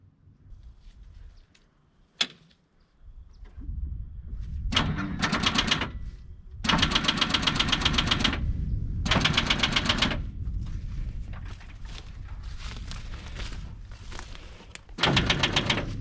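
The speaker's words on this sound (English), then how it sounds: "I think we're gonna try to fire up the old Detroit diesel" An old Detroit diesel engine cranks in repeated loud bursts of rapid mechanical chatter, broken by pauses and a sharp click, as a weak battery struggles to turn it over.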